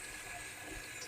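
Water runs from a tap while car interior parts are cleaned during a DIY colour change, a steady faint hiss of flow with no voices.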